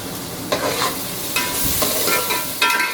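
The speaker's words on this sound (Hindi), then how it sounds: "और प्याज को हल्का सा फ्राई कर लेंगे" Onions frying lightly in oil with whole garam masala spices for aloo pulao, a steady close sizzle with occasional scraping stirs and brief bursts of louder crackle, no talking.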